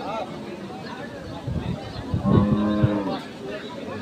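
A dairy cow at a busy cattle and buffalo market gives a short low moo in the middle, surrounded by nearby crowd chatter and general market noise.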